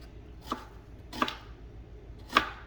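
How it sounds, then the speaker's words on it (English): A knife dicing a small onion on a cutting board: three distinct, sharp chops spaced unevenly across a quiet background, close and fairly soft. "I only bought a small onion. You can see how small it is"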